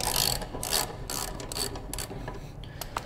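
A ratchet loosens the blade bolt on a John Deere S240 riding mower deck, giving close, repeated bursts of rapid clicking pawl strokes with short pauses between pulls.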